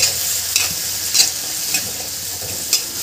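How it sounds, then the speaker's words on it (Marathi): Soaked moong dal fries with spices in a hot pan, giving a steady sizzle. A spoon stirs and scrapes through it every half second or so. "आता यामध्ये आपल्याला हे भिजवलेली मूग डाळ घालायची आहे आणि याला छान परतून घ्यायचं आहे"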